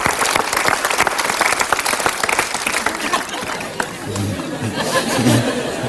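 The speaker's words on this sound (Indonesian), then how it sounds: "Itu kita berikan tepuk tangan." A studio audience at a motivational talk show breaks into dense, sustained applause, loud and close, mixed with crowd chatter. Voices rise near the end as the clapping thins.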